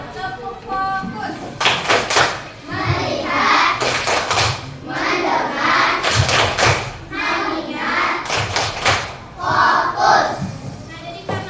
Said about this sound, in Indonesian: Kita mulai ya. Tepuk fokus.